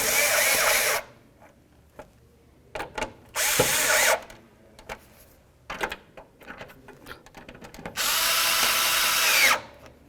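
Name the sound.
power drill driving screws for marker light assembly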